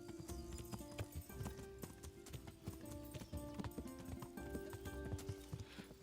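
Horse hooves clip-clop at a steady trot in Kingdom Come: Deliverance, loud and close with a brief whinny, over game music and ambience.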